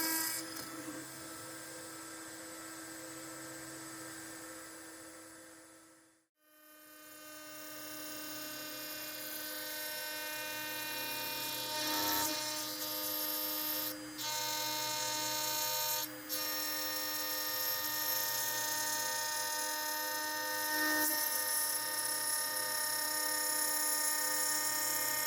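A 1/8 inch CNC end mill on a Onefinity Elite cuts 1/2 inch aluminum sign stock with a steady, loud, high whine, dips almost to silence once, then resumes with occasional tonal shifts.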